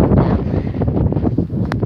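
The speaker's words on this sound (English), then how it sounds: "the wind is blowing." Wind buffets a microphone outdoors, a steady, dull, rumbling roar that fills the whole short stretch with no other sound standing out.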